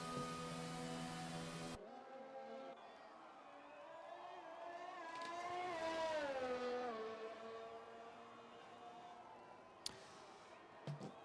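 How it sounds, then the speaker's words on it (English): Race car engines in a video game drone and rise in pitch as cars enter the pit lane at the Belgian Grand Prix, passing at moderate distance, a steady mechanical hum with a swelling peak midway, no talking. "Cars coming into the pit lane."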